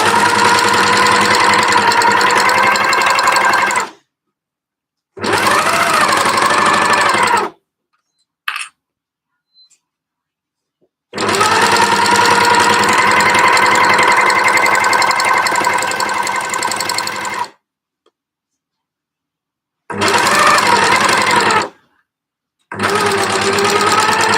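Sewing machine stitching a seam on jersey fabric for joggers, a loud close whirring mechanical hum running in several bursts of a few seconds each, split by silent pauses and a brief clatter.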